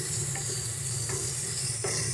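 A spoon keeps stirring masala frying on low-to-medium heat for a prawn dish, with a constant dense sizzle and a few soft scrapes against the pan, close up.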